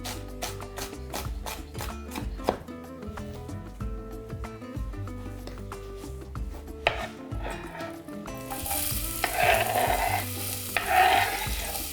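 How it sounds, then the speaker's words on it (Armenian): Two medium onions, finely chopped, frying in a pan for an omelette: a loud, dense sizzle begins about two-thirds of the way in, after a stretch of music, and stays steady to the end. "լցնում և տապակում ենք։"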